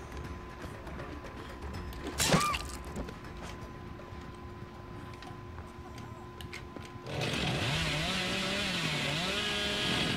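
Hillbilly's chainsaw in the horror game Dead by Daylight: a quiet stretch with a brief sharp sweep, then a buzzing chainsaw revs up and holds a loud, wavering drone to the end.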